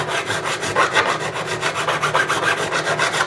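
A metal file removes burrs from the frets of a Jim Harley GJA ED4C electro-acoustic guitar during a refret. It makes a steady run of quick, close back-and-forth rasping strokes with no voices.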